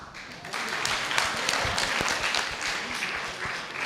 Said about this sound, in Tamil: நல்லா இருந்தால் கைத்தட்டுங்க